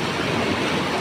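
Strongly flowing water rushing loudly and continuously like a stream or torrent, a dense, close roar filling the whole moment with no voices.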